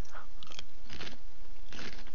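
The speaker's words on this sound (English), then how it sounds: "I'm gonna stop crunching this chip" Crisp crunches of a chip being bitten and chewed come in about three close bursts over a couple of seconds, with no talking.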